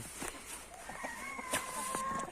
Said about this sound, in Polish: Tutaj już kury puszczone.